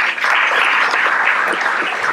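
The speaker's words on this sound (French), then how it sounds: "Je crois qu'il faut vraiment les applaudir." An audience at a town twinning anniversary event applauds after a vocal ensemble's concert, giving a steady, even burst of clapping that fills the short stretch with no voices over it.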